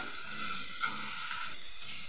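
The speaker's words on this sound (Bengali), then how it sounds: "এরপর আর একটু তেল দিয়ে চিকেনটাকে একটু ফ্রাই করে নেব" Chicken pieces fry in a little oil in a home kitchen pan, giving a steady, fairly quiet sizzle with faint stirring scrapes throughout, no voices present.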